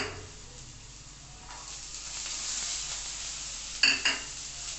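Carrot, corn and capsicum saute in a pan with a soft, steady sizzle and gentle stirring, building slightly louder, followed by two sharp utensil clanks near the end.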